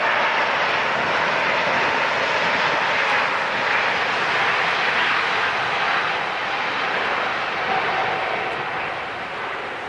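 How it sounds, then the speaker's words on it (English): Airliner taking off at Los Angeles International Airport in the evening, a loud sustained engine roar holding steady for about ten seconds and fading slightly at the end, with no speech. "What a beautiful evening takeoff that looks like."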